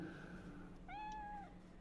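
A single short cat meow comes from a cat in Cyberpunk. The clear, mid-loud call rises and then holds briefly over a low background hum.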